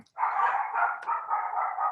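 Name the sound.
dogs barking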